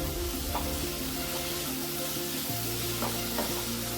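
Tomatoes soften in a hot pan for paneer butter masala, a loud unbroken sizzle with soft scraping as a spoon stirs them through the oil.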